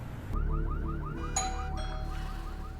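A car alarm cycles through rapid repeating chirps, then switches to a steady tone, loud over a low background rumble.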